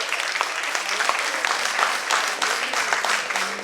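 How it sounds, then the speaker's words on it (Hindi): A large audience claps steadily and loudly throughout, a dense continuous wash of applause at a stage event with no pauses. "जोर से ताली दीजिए प्लीज"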